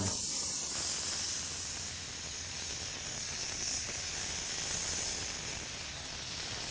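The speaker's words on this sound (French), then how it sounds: "Et il continuera à griller de nouveau sur ce côté plus frais" A burger bun toasts on a hot griddle for a Billy Goat Tavern–style Chicago burger, giving a steady, close sizzling hiss that holds level throughout with no talking.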